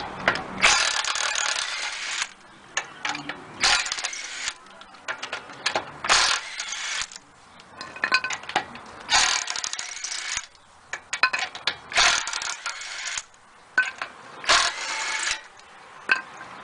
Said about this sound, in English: we're going to go ahead and remove the wheel